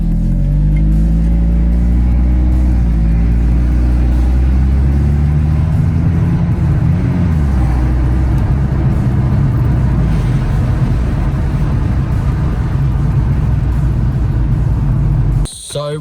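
A Mercedes CLC200 being rebuilt after a crash is out on a test drive, its engine and road noise droning steadily and loud throughout, with the car accelerating at points, then cutting off abruptly at the very end.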